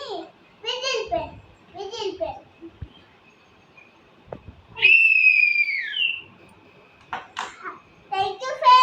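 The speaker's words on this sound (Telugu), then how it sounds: "కానీ విజిల్ పెన్." A toy whistle pen blown once, a clear, sustained high whistle lasting about a second that slides slightly downward, between bursts of someone talking nearby.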